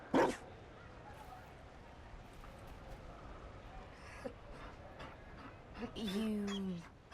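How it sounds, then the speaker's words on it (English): Mabari war dog from the video game Dragon Age Inquisition gives a short bark at the start, later followed by a whining, yelping vocalization, heard over a low game ambience. "You found a dog. They don't breed Mabari in Olay."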